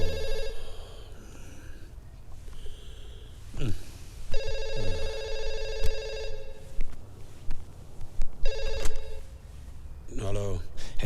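A telephone rings in repeated electronic bursts, loud and close, heard in a Hindi comedy film scene, with some shuffling and breathy noises between rings.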